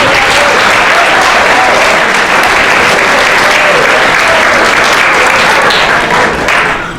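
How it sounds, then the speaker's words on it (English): Loud, dense audience applause fills the hall after a school spring concert with glee club and other performers, a steady roar of many hands clapping without a break for the whole stretch. "Can we get another round of applause for all of our performers this"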